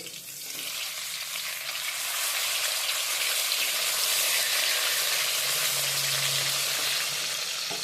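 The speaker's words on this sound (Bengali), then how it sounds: "আমি মাছগুলোকে ভেজে নেব এক সাইড ভালো করে ভাজা হয়ে গেছে আমি অপর সাইডটি দিয়ে দিচ্ছি" Pieces of katla fish fry in hot oil in a pan over a medium-to-high flame, with a continuous, loud sizzle that swells after a few seconds and holds steady. No one speaks.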